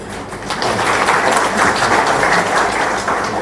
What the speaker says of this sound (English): let's give a round of applause to these 3 teachers